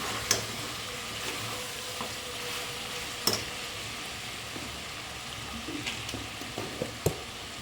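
Goat head curry sizzling softly in a pan as chili powder is stirred in, quiet steady frying hiss broken by a few sharp scraping knocks of the spoon.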